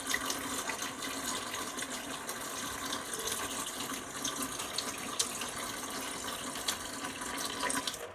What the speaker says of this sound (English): I've got it running through my normal yard hose that I use in the yard right now.